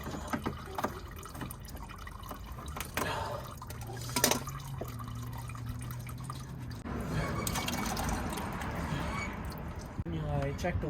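Coolant trickles and drips from a removed cooling hose on an Infiniti G35, a steady liquid splatter running throughout with someone talking over it and some tool clinks.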